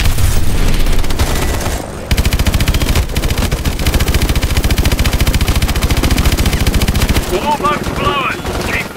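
Loud, relentless machine-gun fire with missile launches in the futuristic shooter Call of Duty Advanced Warfare on PC. Rapid, dense bursts run almost continuously, with one brief break, while faint background game chatter sits beneath the barrage.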